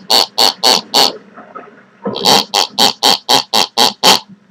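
Squeaky pig-shaped toy squeezed repeatedly, loud close squeals: four quick squeaks, a pause, then a faster run of about eight more.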